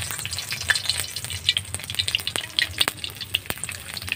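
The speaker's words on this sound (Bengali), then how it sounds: "তেলটা গরম হয়ে গেছে, এর মধ্যে তেজপাতাগুলো দিয়ে দেব।" Bay leaves dropped into hot oil for a Bengali chicken curry, sizzling steadily with crackling pops and a few sharp spatters, close and fairly loud, with no voices.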